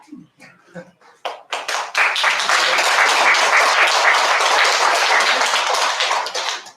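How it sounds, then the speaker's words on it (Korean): After a few scattered claps, an audience bursts into sustained applause following a lecture on North–South Korean unification, a dense even clatter of many hands lasting several seconds before tapering slightly. "강의를 너무 진지하게 듣다 보니까 박수소리는 좀 약했습니다"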